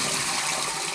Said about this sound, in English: We try to wash it a few times till the water on the rice, it gets a little bit clearer than what it is right now.